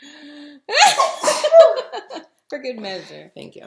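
A person sneezes in a lively studio discussion, a burst set among overlapping chatter and laughter, with voices talking before and after.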